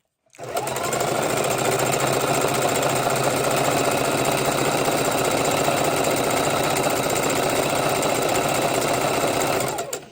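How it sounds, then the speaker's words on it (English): A sewing machine runs at an even speed for about ten seconds, stitching fabric for a boho shabby chic room divider. Its close, steady mechanical whirr and rapid needle chatter start and stop cleanly, with no voices. "So if you can see what the head of that needle is doing with the motor on the 2, it's going forward, going back"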